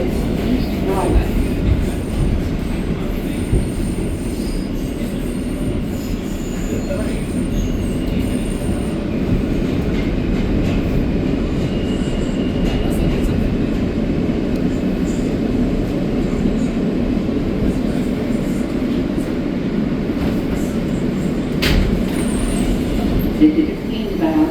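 An R160A F train on the New York City subway runs between stations. A loud, continuous rumble of wheels on track carries steady clatter and faint squeals throughout, with no voice audible.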